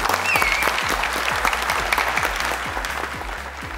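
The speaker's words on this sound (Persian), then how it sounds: "تشویق کنید." Studio audience applauding on the Afghan Family Feud game show Ro Dar Ro, steady dense clapping from a crowd filling the whole stretch, loud and continuous with a low hum underneath.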